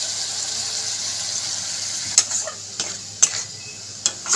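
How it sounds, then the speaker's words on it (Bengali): Masala ground from rice, melon seeds, green chilli, ginger and poppy seeds fries with a steady sizzling hiss in a pan, with a few sharp scrapes and knocks of a spoon stirring it, close by. "নেড়ে চেড়ে ভালো করে কষিয়ে নেব মশলাটাকে"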